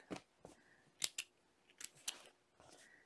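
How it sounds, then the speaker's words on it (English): Scissors snipping threads on fabric at an ironing board, several sharp close snips in an irregular rhythm, quiet and alone. "I'm going to clip all those threads in between"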